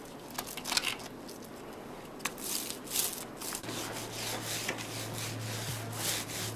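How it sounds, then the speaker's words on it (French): Primer for a SOPREMA Alsan Quick 500 application is spread by brush or roller across a surface, giving close, soft repeated rubbing and swishing strokes over a steady low hum. "Étalez le primaire à la brosse ou au rouleau sur l'ensemble de la surface à couvrir"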